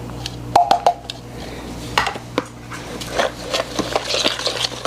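A whisk clatters and scrapes around a bowl, mixing sugars into cupcake batter with an irregular, close rhythm of light knocks and rubbing.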